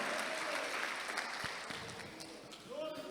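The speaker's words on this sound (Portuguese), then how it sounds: "Aplauda o Senhor e se coloque em pé." Congregation applauding at a church service, a steady wash of clapping from many hands that thins slightly midway, with voices mixed in underneath.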